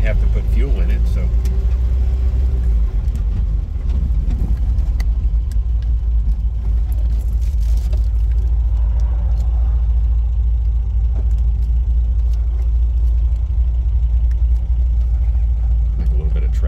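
A 1969 MGB convertible drives along with a steady low engine rumble throughout, loud and close, while a person talks over it.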